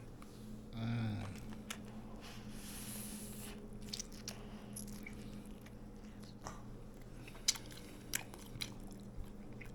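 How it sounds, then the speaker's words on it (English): Someone bites into a hot smoked sausage, a single close, soft squishy bite near the start, followed by quiet chewing and faint small clicks with no talk. "But what gets you is when you bite into it."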